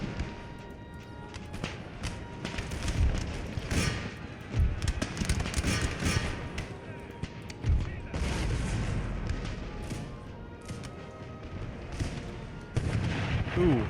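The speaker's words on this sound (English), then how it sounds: "All artillery, focus on this line infantry in the back." Artillery fire in Empire: Total War thumps out in repeated booming shots amid a busy battlefield din, with a voice talking over parts of it.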